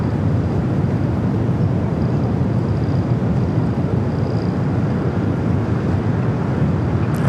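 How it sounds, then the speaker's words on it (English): A United Boeing 737-800 taking off at LAX, a steady, loud broadband jet roar holding evenly throughout with wind-like rumble and no voices. "Next takeoff here on the south side, United Flight 679 heading to Vegas on the"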